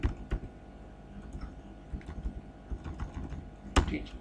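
Keys tapping on a computer keyboard while writing JavaScript code, quiet irregular clicks in short bursts with small pauses and one sharper louder key press near the end, close to the microphone.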